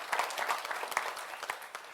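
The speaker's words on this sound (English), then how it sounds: "You applauded, and I'm shocked." Keynote audience at a peer-to-peer summit bursting into applause, a dense patter of many hands clapping at close range for two seconds without talk.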